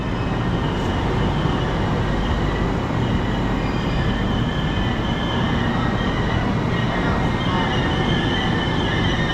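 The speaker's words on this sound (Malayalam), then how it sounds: "അപ്പോൾ ഹസ്രത്ത് നിസാമുദ്ദീനെ ലക്ഷ്യമാക്കി മംഗള എക്സ്പ്രസ് പുറപ്പെട്ടിരിക്കുകയാണ്" Heard from inside a crowded general coach, the Mangala Express passenger train rolls along at speed with a loud, steady roar of wheels on rails and a rattling carriage, unbroken for the whole stretch.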